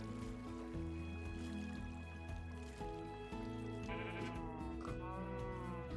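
Minecraft sheep bleat in the game world, a wavering animal call set into steady background music with chimes and plucked notes; no speech.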